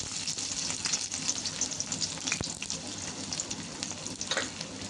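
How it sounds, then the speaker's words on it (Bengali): Chopped onions fry in hot oil in a kadai, a Bengali wok, with a soft, steady sizzle and crackle. Light stirring noises come through, and one sharp clink lands midway. "তেল দিয়ে নেওয়ার পরে পেঁয়াজ কুচি ওগুলোকে দিয়ে নেওয়া হলো"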